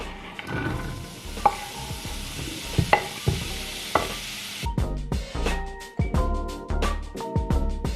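Chopped onions frying in hot oil in a pan for homemade pierogi, a steady close sizzle broken by repeated spoon scrapes and knocks against the pan, with no talking.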